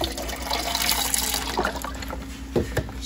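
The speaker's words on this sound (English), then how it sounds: "Let's throw a little stock in there," Chicken stock poured into an emptied can for enchilada sauce, a soft watery trickle and slosh close by, fairly quiet, with a couple of small clinks near the end.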